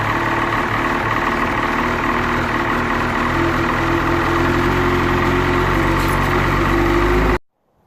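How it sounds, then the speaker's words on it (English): A Ski-Doo snowmobile engine with its muffler reinstalled idles loudly and steadily up close, a rough continuous drone with no pauses, then cuts off abruptly at the end. "With the muffler reinstalled, I'm able to start it up now."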